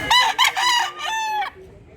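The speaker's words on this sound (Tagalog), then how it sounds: "Gwapong manok." A rooster crows close and loud, a shrill, strained call in several rising segments over about a second and a half, then cuts off into quiet.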